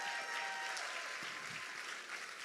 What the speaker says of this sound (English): So how about a round of applause for the chamber?